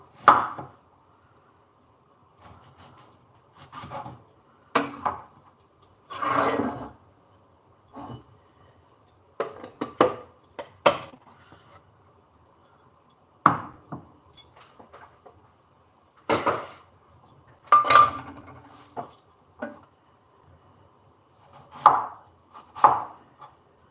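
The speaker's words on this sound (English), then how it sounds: "chopping of this onion, garlic and ginger" A knife chops onion, garlic and ginger on a cutting board in irregular bursts of quick taps and single thuds, close and crisp, with short pauses between.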